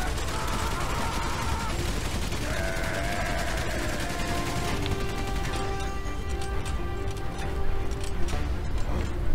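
Scattered gunfire and distant battlefield noise from the Valiant Hearts First World War game, with intermittent shots, whistling tones and rumbling under a busy background, with no voices.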